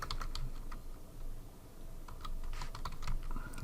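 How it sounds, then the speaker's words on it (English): Computer keyboard typing in quick bursts of close, clicky keystrokes with short pauses between runs, steady and moderately loud throughout. "And then I'm gonna type"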